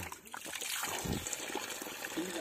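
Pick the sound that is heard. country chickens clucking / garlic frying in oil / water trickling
water trickling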